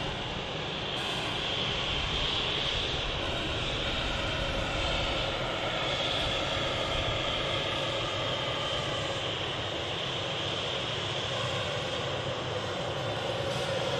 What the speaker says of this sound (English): just about to come round the corner out to Helsinki. Finnair Embraer 190.